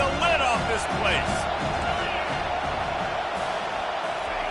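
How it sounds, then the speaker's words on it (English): A stadium crowd at a college football game between Miami and LSU roars continuously, a dense, loud wash of cheering with occasional whoops, under a commentator's voice. "This crowd is tearing the lid off this place."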